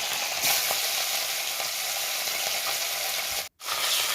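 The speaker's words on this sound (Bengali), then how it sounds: "মাছটি আমি ভেজে নিচ্ছি ভেজে আর এমনি কড়া করে ভাজবো না একটু হালকা করে ভাজবো" Fish frying lightly in oil in a pan, a loud, dense, steady sizzle heard up close, interrupted by a brief moment of near silence before it resumes.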